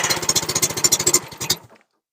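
An old Bobcat engine with a worn choke cable cranks over in a fast, steady chugging rhythm for about a second and a half, loud and close, then cuts off into silence.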